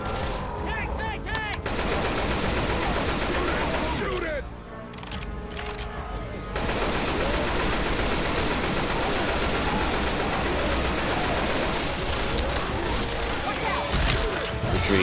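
Dense, continuous gunfire in the Left 4 Dead 2 video game, aimed at a Tank, with rapid overlapping shots and a brief lull in the middle before the shooting resumes at full loudness.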